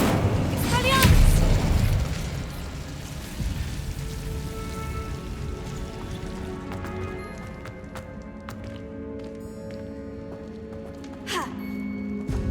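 Fire and disarming spells cast in the game Hogwarts Legacy: a loud whooshing burst with a heavy boom at the start, then a crackling, rain-like scatter of magical effects and sharp impact hits, while a voice calls out.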